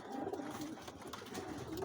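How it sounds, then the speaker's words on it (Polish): Breeding pigeons coo softly in low, rolling murmurs against a quiet, noisy background, the calls overlapping and repeating. "tutaj są te gołębie z rozpłodu"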